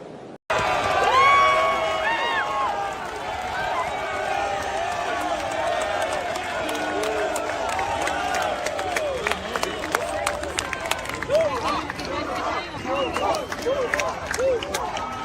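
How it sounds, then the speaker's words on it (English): Tennis crowd in Buenos Aires erupts after an ATP Tour title win, with sustained roaring cheers, whistles and clapping, loud and continuous, while someone talks over it. "So the crowd have just gone nuts."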